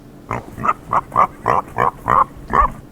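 A pig grunts close and loud in a rhythmic series of about eight short nasal snorts, evenly spaced and heard alone.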